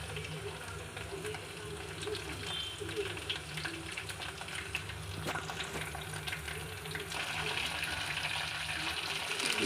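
Chopped onions fry in hot oil in a pan for brinjal fry, giving a steady, fairly quiet sizzle and crackle with light stirring scrapes, close by and without speech.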